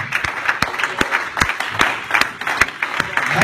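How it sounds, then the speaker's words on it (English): A church congregation claps steadily in a brisk, even rhythm of praise, the sharp hand claps close and continuous, with faint voices mixed underneath. "Give the Lord a hand clap of praise."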